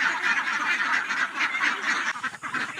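Pet ducks quack steadily inside their dim pen at night, a dense overlapping chorus of close, loud calls with no voices.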